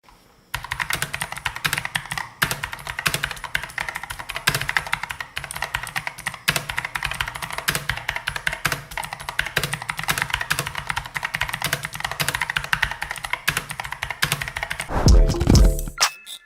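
Fast, steady typing on a mechanical keyboard, with crisp individual key clicks rattling close up without any talk, ending in a couple of heavier thumps.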